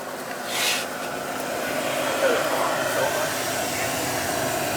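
A gas boiler with a power vent runs steadily, giving a constant broadband whoosh and low hum with a brief swell near the start and a small rise midway, fairly close.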